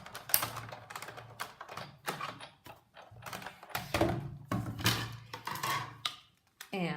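A Big Shot die-cutting machine cranks cardstock sandwiched between standard cutting pads, producing a series of irregular clicks, knocks and thunks up close, with quiet room sound between them.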